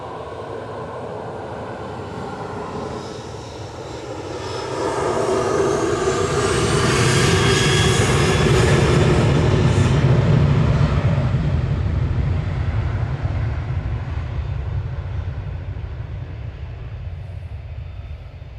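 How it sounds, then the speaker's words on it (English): A Malta Air-operated Ryanair Boeing 737-800 departs Manchester Airport for Cork, a broad jet roar that swells to a loud peak and then slowly fades into the distance. "Ryanair's heading off to Cork with flight 18639HQEK operated by Malta Air"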